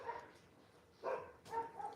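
Dogs bark in a few short, muffled bursts, somewhat distant and faint, with small whimpering yips between them and no clear talking.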